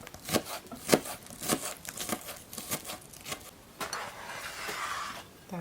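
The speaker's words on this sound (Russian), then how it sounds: "Режу мелко лук." A knife chops an onion finely on a board, a run of brisk, irregular close cuts, some louder than others, giving way to softer scraping toward the end.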